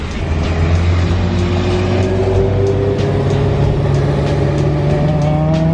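BMW E36 car pulling in at a car meet, a loud steady engine drone with a slowly rising tone as it rolls close by, no talking.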